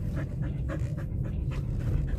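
A dog named Snowy pants rhythmically close by, quick regular breaths repeating over a steady low outdoor rumble.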